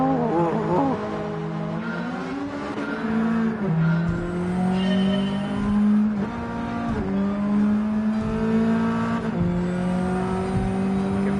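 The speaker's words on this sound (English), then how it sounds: "rev limiter up, get that boost going" A car engine in the Gran Turismo 7 racing game revs hard and continuously, its loud, rising and falling drone hitting the rev limiter with brief tire squeals, up close and alone with no talking.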